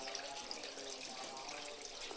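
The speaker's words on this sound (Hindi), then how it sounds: "ये देखिए भैंसे रानी लोग बैठी हुई हैं अभी। अरे सूसू करने लगी" A buffalo urinates on a house floor in a village, a steady hissing splash of liquid pouring continuously, fairly faint and even throughout with no talking.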